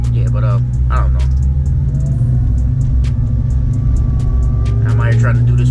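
Deep, steady engine rumble of a Dodge Charger Hellcat with a whining supercharger blower on top, idling loudly up close in the rain while voices talk over it.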